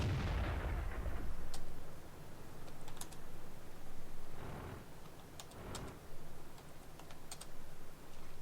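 Tank gunfire in the online game World of Tanks: several heavy booming shots, one loud blast at the start and others spaced across the stretch, with clicking keyboard taps around them.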